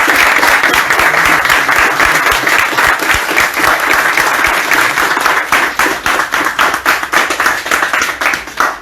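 Loud, dense ovation from an audience at an Ivorian press conference, continuous clapping that settles toward the end into a rhythmic, unison beat.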